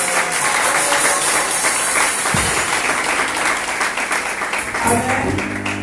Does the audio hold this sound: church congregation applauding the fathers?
yes